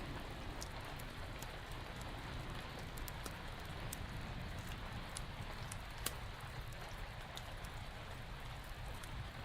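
Steady rain falls in an even hiss with scattered raindrops ticking close by, faint and continuous and free of voices.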